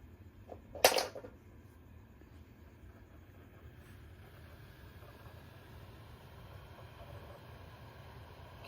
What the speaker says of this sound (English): Can hear it running, the fan, but it's super quiet.